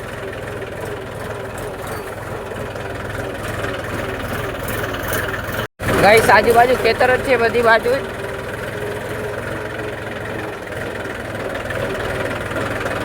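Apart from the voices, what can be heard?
tractor engine bouncing along a bumpy farm road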